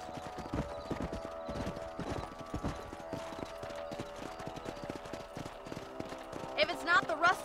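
Horse hooves clip-clop in a steady rhythm amid Red Dead Redemption game ambience, with a voice talking over it and a horse whinnying near the end.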